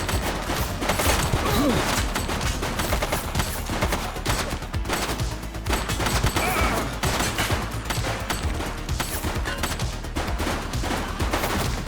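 Rapid, heavy gunfire in the police game The Precinct, a continuous volley of sharp overlapping shots rattling loudly from start to finish with no pauses.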